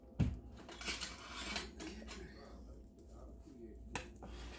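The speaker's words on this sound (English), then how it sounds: "Got one of my big dipper spoons here." A large dipper spoon scrapes and clinks against a container while scooping a drink mixture at home, faint scattered metallic taps with quiet background sounds and soft talk.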